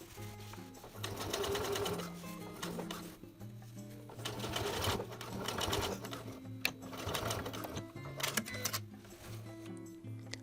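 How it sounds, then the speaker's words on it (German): A sewing machine stitches a contrast-thread topstitch on a jeans hem with a fast, steady mechanical whirring hum and rapid needle clatter, close by, running in several stretches with brief slowdowns and no speech. "daher steppe ich ihn mit 2 mm weniger Breite, also mit 18 mm Kantenabstand, in kontrastfarbigem Garn von der Außenseite fest"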